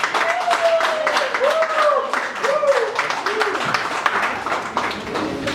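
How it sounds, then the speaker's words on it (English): An audience at a live music performance claps as a guest is welcomed onto the stage, a dense steady patter of hands mixed with whoops and crowd voices throughout. "So, please give a round of applause for Vivek sir."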